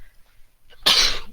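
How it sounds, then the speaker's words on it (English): A single loud, breathy sneeze bursts out after a brief faint intake of breath, close to the microphone. "And I'm actually going to sneeze"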